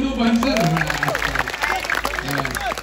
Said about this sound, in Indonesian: Tepuk tangan untuk Banser.